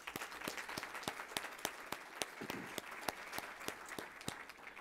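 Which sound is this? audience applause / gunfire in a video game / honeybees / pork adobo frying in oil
audience applause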